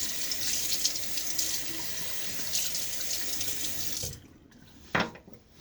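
A tap runs steadily into a sink while a razor is rinsed after a shave. The flow cuts off near the end and is followed by a short splash and a clink.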